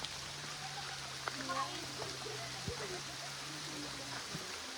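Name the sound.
heavy rain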